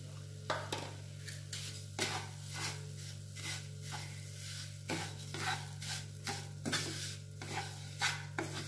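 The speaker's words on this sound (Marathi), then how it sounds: "आता हे साखरेबरोबर हे चांगलं मिक्स करून चांगलं भाजून घ्यायचं आहे." Paneer and sugar are stirred and roasted in a pan over low to medium flame, producing rhythmic scraping strokes over a faint sizzle and a steady low hum.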